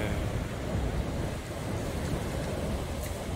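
Sea waves rolling onto the rocky coast along the Galmaet-gil trail near Gijang, Busan, a continuous broadband wash of surf and wind, fairly loud and steady with no talking.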